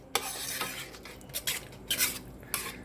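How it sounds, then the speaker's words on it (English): A spoon stirs balsamic vinegar into a simmering tomato sauce in a pan, with several distinct scrapes and clinks against the metal over a soft sizzle. "Just put a little balsamic vinegar in there. Give it a stir."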